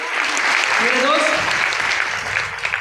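Audience applause rolling through a hall, a continuous dense clapping for nearly three seconds, with a voice briefly audible over it midway through.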